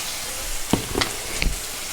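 Coriander masala paste dropped into hot oil for a village-style chicken curry, a brief close sizzling hiss with a few soft clunks and scrapes of a spoon in the pan, no speech.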